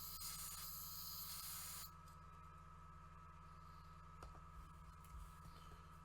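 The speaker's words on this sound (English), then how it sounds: "slip the paper behind, and then spray towards the front of the tank" An airbrush sprays paint onto a miniature Land Raider tank model for Legions Imperialis, a steady close hiss for about two seconds that stops abruptly, leaving a faint background hum.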